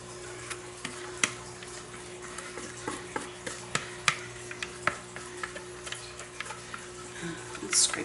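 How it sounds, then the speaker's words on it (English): Spatula scraping lavender vanilla soap batter out of plastic containers, a string of close, light scrapes and soft ticks over a steady background hum, without talk. "Sorry, I've never scraped containers so much as when I started soaping"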